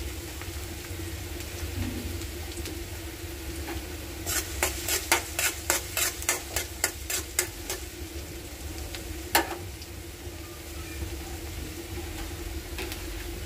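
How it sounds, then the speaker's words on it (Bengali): Garlic fries for leafy greens in a pan with a low, steady sizzle. Midway comes a quick run of about a dozen rhythmic scraping strokes, then one more near the end, close and fairly loud. "শাকের জন্য রসুনটা দিয়ে দিলাম।"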